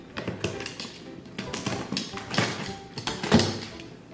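A cardboard box of Avon products is opened with a series of irregular taps, scrapes and crinkling knocks, close and moderately loud, with no talking.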